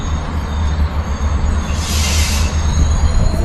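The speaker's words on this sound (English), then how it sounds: "Here comes our train now." A passenger train rolls into Volos railway station with a heavy, steady low rumble, wheels grinding and a brief high squeal of brakes, loud and close.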